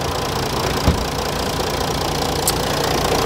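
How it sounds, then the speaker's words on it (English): A Mercedes CLS engine idles steadily under the open bonnet, a continuous mid-pitched hum and rumble held at an even level throughout, close by and unaccompanied by talk. "it sounds exactly as an engine should sound"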